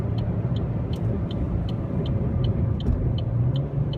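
A 2014 Chevy Sonic LT rental car hums with a steady low engine drone inside the cabin as it turns and downshifts. A faint, regular ticking repeats throughout, with no talk.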